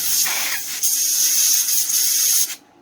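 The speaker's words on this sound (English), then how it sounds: "It's just a duster," A can of compressed air duster gives a loud, close hiss during an iPhone 7 Plus battery replacement, in one continuous spray of about two and a half seconds with slight pulses, then cuts off abruptly.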